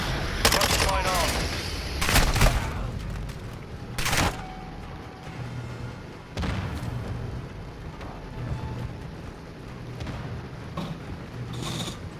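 Modern Warfare 2 multiplayer combat: bursts of gunfire and mechanical clatter come in the first seconds, then a lone loud shot, with quieter distant fire and faint radio-style chatter behind.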